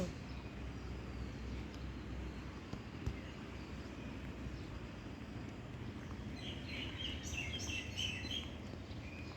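Birds chirp in the early morning, their faint, scattered calls rising late in the stretch above a steady low rumble of outdoor background noise.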